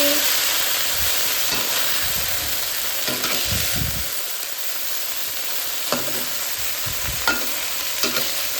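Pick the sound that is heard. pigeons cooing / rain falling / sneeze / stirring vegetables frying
stirring vegetables frying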